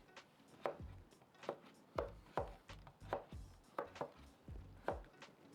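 A Japanese kitchen knife julienne-cuts carrot sticks on a board in a quick, steady series of crisp chops, about eight strikes over several seconds, close and fairly loud with no voices.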